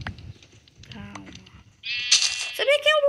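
Sheep bleat in a video game, a loud wavering bleat rising near the end after quieter game sounds.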